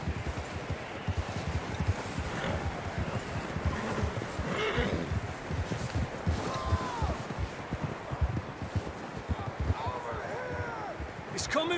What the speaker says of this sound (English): I don't think we can go much further on the horses.